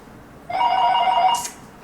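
A telephone rings once, a steady trilling bell tone lasting about a second, loud and close, with no talk.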